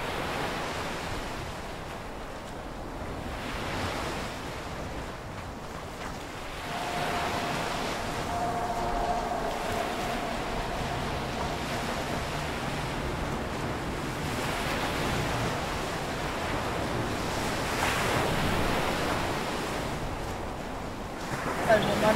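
A continuous wash of video game ocean surf and rolling water, swelling and easing over time, with voices talking now and then over it.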